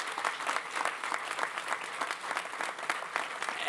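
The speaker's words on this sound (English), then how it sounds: "Let's give them a big round of applause as well." An audience at a bill signing with the Maryland governor at Tradepoint Atlantic breaks into a round of applause, many hands clapping in a steady, crackling patter throughout.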